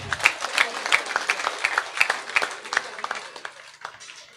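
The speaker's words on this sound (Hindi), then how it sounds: "भाई इनके लिए एक जोरदार ताली बजा दो।" A village crowd claps for a guest at a gathering, a burst of crisp, uneven handclaps that stays lively before thinning out and fading toward the end.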